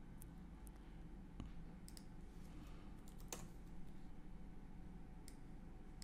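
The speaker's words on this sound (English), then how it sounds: "And you're going to type the command" Keys clatter on a computer keyboard as a command is typed at a router's command prompt, scattered quiet clicks with a few sharper taps over faint background hum, no speech.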